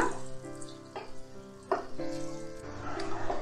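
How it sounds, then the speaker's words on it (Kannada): Onions fry with curry leaves in a pan, a soft, steady sizzle that sits low in the mix beneath background music, with faint stirring scrapes. "ಈರುಳ್ಳಿ ಹಸಿ ವಾಸನೆ ಹೋಗೋವರೆಗೂ ಚೆನ್ನಾಗಿ ಫ್ರೈ ಮಾಡೋಣ"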